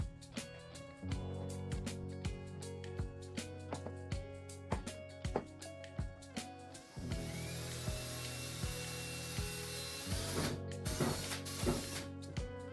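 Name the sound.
lever action rivet gun setting aluminum rivets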